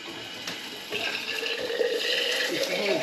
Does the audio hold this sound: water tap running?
yes